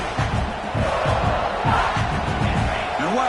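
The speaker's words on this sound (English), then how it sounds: "listen to this crowd noise. This stadium is vibrating." A packed college football stadium crowd roars continuously, a dense, loud wash of cheering and shouting heard close and filling the space, with a brief rising voice near the end.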